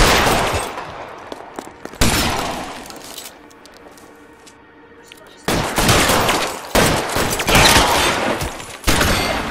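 Gunfire rattles through a shootout in the video game L.A. Noire, loud bursts of rapid shots in two clusters separated by a quieter stretch of ambient sound.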